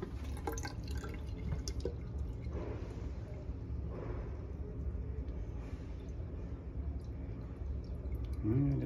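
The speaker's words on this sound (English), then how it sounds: "We're gonna turn the pump on and see if it pumps." Small pump pushing water into a sink, giving a continuous wet gurgling and dripping wash over steady background noise, weak flow with no talking.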